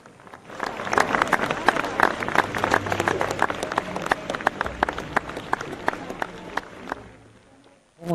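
Mourners at a funeral applaud as the coffin passes, a crowd clapping in uneven bursts with sharp individual claps standing out, tapering off near the end amid background voices.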